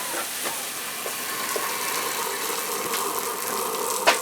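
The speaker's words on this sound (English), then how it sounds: "there you can see it's spraying water." A lawn irrigation sprinkler on a residential zone sprays water in a steady, hissing rush, continuous and fairly close, with a brief knock near the end.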